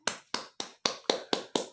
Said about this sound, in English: It's the sound of a clapping sound